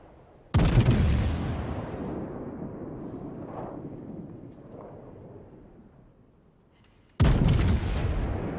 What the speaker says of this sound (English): So Pierre turret has nothing better to do, so he tries to get a shot in on the destroyer